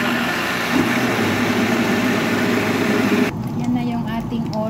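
Steady motor whir of a kitchen blender running on cooking cream and sautéed ingredients, a continuous droning hum that shifts in tone near the end as the contents thin out.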